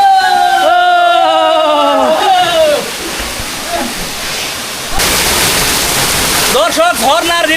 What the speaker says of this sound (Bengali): কত বেশি পানি পড়তেছে, কত শব্দ আর কত উঁচু।